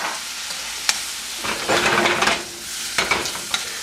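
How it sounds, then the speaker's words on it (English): Kimchi fried rice with Spam sizzles steadily in a hot pan as sesame oil goes in, with a brief louder surge of frying and a few sharp utensil clicks and scrapes against the pan. "I'm going to add our sesame oil in there now."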